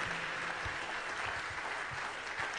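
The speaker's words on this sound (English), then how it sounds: "Celebrate your Father with a clap offering." A congregation claps continuously during a Wednesday deliverance church service, a loud, dense crowd applause that holds steady for a few seconds with no voices heard.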